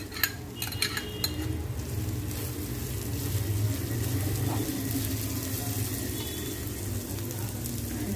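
Onion pieces frying in a pan with ground masala paste while preparing prawns with cluster beans, giving a steady, continuous sizzle and scraping from stirring, with a few sharp utensil clinks at the start.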